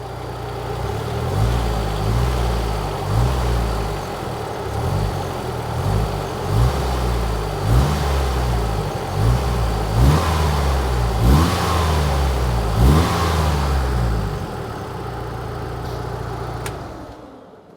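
A car engine fires up for the first time during a build and runs steadily, rumbling loud and close with repeated revving surges throughout before cutting off near the end.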